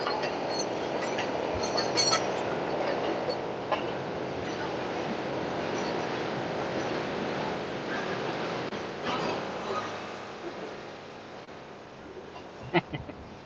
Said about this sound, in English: Man, we need to get away from this train.